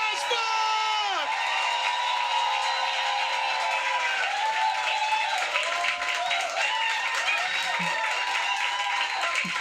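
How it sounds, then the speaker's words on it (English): A stand-up comedy audience welcoming comedian Urooj Ashfaq on stage with continuous loud applause, high whoops and cheering shouts over the clapping, lively and sustained throughout. "as long as you got all the applause"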